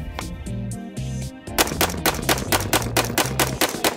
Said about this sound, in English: you can shoot them fast, you can shoot them slow